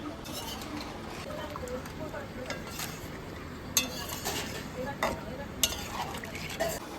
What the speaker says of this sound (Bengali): এবার একটু নাড়াচাড়া করে আমি ঢেকে দেবো, আস্তে আস্তে জল বেরোবে।